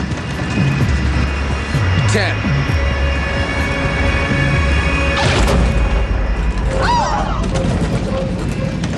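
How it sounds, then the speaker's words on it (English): An American Airlines jetliner slams hard onto the runway in a stormy landing, heard as a loud, continuous rumbling roar with rattling and heavy thumps that fills the whole stretch. "We hit the runway real hard."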